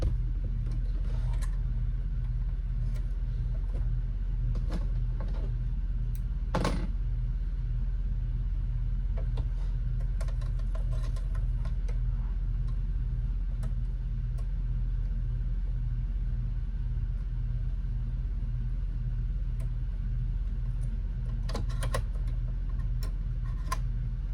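A home sewing machine runs steadily while basting pieces of a lounge gown, a continuous low rhythmic ticking hum close by, with a few brief clicks and knocks, no voices.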